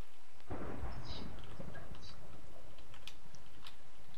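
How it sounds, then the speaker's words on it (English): Thunder rumbles in the video game Minecraft as a low, rolling roar that swells after a short quiet start and then settles into a sustained grumble. Faint clicks and taps are scattered over it, and no one is talking. "Why is it always thunder here?"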